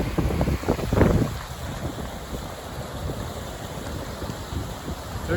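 A stream crossing on the Timberline Trail brings a steady wash of rushing water, with a louder scuffing burst near the start and wind buffeting the microphone.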